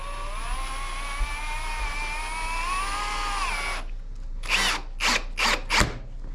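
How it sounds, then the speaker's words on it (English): A Ryobi cordless drill with Milwaukee bits drives screws into wood for a heavy-duty workbench build, whining steadily at first, then firing several short, loud bursts close by. "Alright, so we got our Milwaukee drill bits with our Ryobi drill. We're about to put our first screw in."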